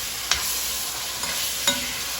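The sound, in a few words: seasoning cooking and sizzling in a pan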